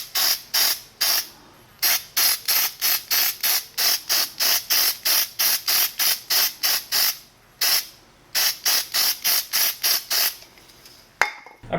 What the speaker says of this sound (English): we're just going to spray it on here.